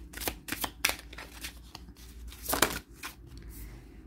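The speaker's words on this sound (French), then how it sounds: "On ne veut pas me laisser vous mélanger les cartes." A deck of tarot-style cards is shuffled by hand in bursts of crisp riffling and flapping close by, with quiet pauses between, no voices over it.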